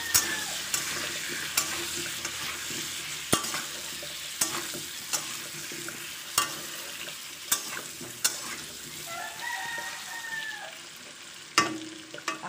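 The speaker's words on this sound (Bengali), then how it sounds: "এবার নুন হলুদ দিয়ে আলুটাকে ভাজছি।" Potatoes frying with salt and turmeric in a pan for chicken curry, a steady sizzle punctuated by regular sharp clinks and scrapes of a spatula stirring, close and alone without talk.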